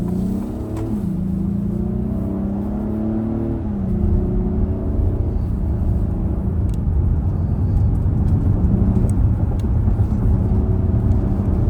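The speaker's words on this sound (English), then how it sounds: "So we're going to take off from a stop right here" A 2024 Acura MDX A-Spec SUV in sport mode pulls away from a stop, its engine note rising and shifting through gears in a steady close-up cabin rumble, without any speech.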